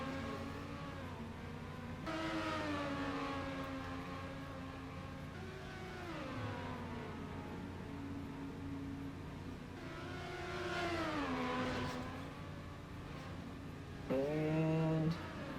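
Race car in the video game Trackmania Nations driving a lap, engine tone sweeping up and down steadily through gear changes and throttle swells, moderately loud and continuous without talk.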